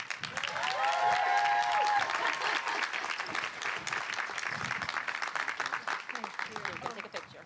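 An audience claps for a graduate at a community college commencement ceremony, sustained applause rising quickly and holding for several seconds before thinning out, with some whoops and voices mixed in.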